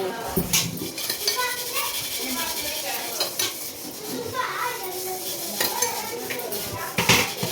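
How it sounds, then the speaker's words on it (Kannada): A sweet mixture is stirred with ghee in a pan, a continuous scraping and light sizzle with the occasional clink of a spoon against metal. "ತುಪ್ಪ ಹಾಕಿ ಮಿಕ್ಸ್ ಮಾಡ್ಕೊಳ್ಳಿ."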